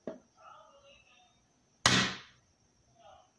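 A single sharp shot from a Daisy Powerline 880 air rifle fitted with a suppressor, a loud close crack with a short decaying tail, standing out between faint background murmur.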